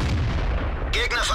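A Panzer IV S tank gun in World of Tanks fires a single heavy shot, a sudden sharp boom that rolls out with a ringing tail over a steady low engine rumble.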